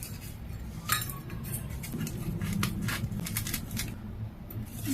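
A clumped seasoning sachet from instant Indomie noodles is crushed and squeezed by hand, giving a steady close crinkling and rustling with brief sharper crackles, no talking.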